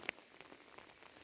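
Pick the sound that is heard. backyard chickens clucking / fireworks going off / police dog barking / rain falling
rain falling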